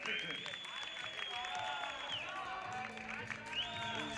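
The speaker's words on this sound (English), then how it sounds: "You can probably hear the Egyptian part of the crowd next door to where we are." Egyptian supporters in a neighbouring crowd at the 2021 World Para Powerlifting Championships in Tbilisi, cheering, clapping and whistling steadily in the background while a commentator talks.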